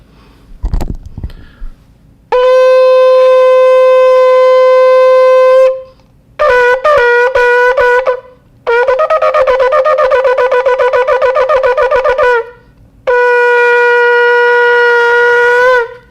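A shofar sounds alone: a long sustained blast, then a series of shorter broken notes, another tremulous run of rapid blasts, and a final long blast.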